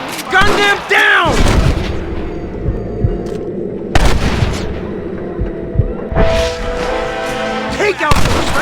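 Gunfire in the Red Dead Redemption video game: loud shots and booming blasts, several sharp reports spread across the stretch, with game dialogue voices in between.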